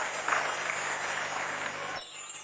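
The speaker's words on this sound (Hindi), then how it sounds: "तालियों के साथ उनका स्वागत करें" An audience applauding to welcome a poet at a poetry gathering in Agra, a steady wash of clapping for about two seconds that then cuts off abruptly, with no talk over it.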